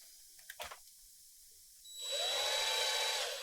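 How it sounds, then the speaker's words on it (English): A small drill boring a pilot hole for a wall anchor starts up after a couple of faint clicks and whines steadily at high pitch, close and loud, for over a second. "Pre-drill hole, a smaller diameter than what you're going to use for a wall anchor."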